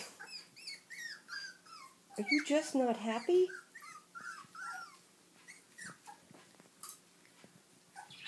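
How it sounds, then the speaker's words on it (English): A Shetland sheepdog, among a litter of puppies, lets out one loud burst of barking and growling midway, with soft whimpers and yips before and after while someone talks gently nearby. "My goodness, that was a big bark."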